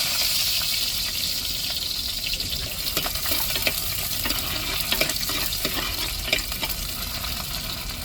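Onions frying in hot oil as tempering for a dried salted fish (karuvadu) curry, a steady close sizzle with scraping stirs and small crackles throughout, no voices.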